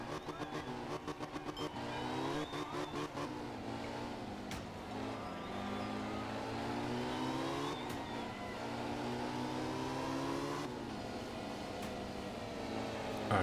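A rally car engine in the video game The Art of Rally drones and revs, pitch rising and falling through repeated accelerations and gear shifts, steady and fairly close with no talk.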